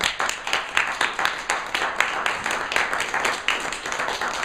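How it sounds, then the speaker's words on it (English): Audience at a Milton Keynes exhibition event clapping steadily, a moderate crowd of rapid, fairly even claps that stays at a consistent level throughout. "Can we give them a huge round of applause?"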